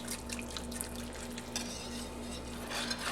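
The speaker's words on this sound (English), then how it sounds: "I use the whisk to get anything that's collected on the side" Whisk stirring chicken and sausage gumbo in a pot, a soft continuous swishing with faint clinks against the pot sides, close and steady under low background hum.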